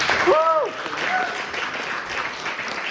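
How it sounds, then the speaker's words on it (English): Audience applause after a reading event, moderate clapping that rises briefly and then settles into a softer patter, with a few voices and a short vocal sound near the start. "once again, let's have a round of applause for all of our..."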